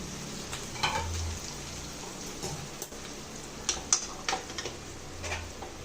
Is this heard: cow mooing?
no